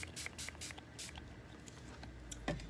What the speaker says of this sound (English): And I'm just going to spray it a little bit more.